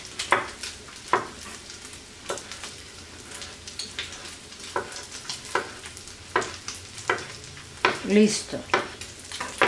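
Bacon frying in oil with a constant crackling sizzle and rapid, rain-like popping, plus spaced clicks of a utensil against the pan, heard close. A voice speaks briefly near the end.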